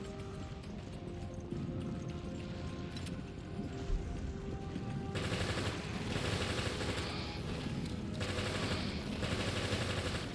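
Submachine gun in Resident Evil Revelations firing in long rapid bursts, loud and rattling, with a steady mechanical hum underneath and the fire intensifying in the second half.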